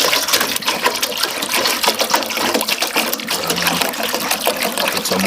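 Water gushes and splashes into a container for washing hands outdoors in the Jamaican countryside on a rainy day, a loud, close, fluctuating pour with no talk over it.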